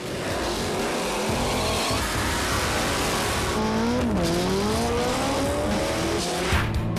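Hot rod cars drag racing at Bandimere Speedway roar loudly and continuously, engines revving with rising and falling pitch sweeps as they launch and accelerate, close and powerful throughout.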